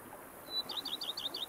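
Birds in the game The Witcher 3: Blood and Wine give a faint whistle, then a quick series of about eight bright, repeated chirps, close and clear over a quiet background, with no talking.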